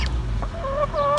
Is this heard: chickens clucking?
yes